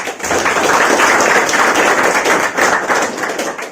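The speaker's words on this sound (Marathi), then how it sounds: "तर पुन्हा एकदा जितूचं टाळ्या वाजवू आपण।" A crowd claps together in applause at a gathering honouring a student's exam success, a dense, steady patter of many hands held at full strength for several seconds with no talk over it.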